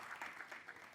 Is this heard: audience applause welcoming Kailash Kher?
yes